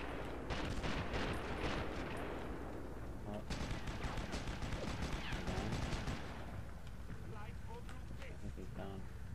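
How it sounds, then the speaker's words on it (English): Gunfire in the World War II shooter Sniper Elite 2 at the Reichstag: dense, rapid bursts of shots crackle loudly for several seconds, then thin out to scattered reports, with voices faintly present beneath. "Someone's shooting from over here."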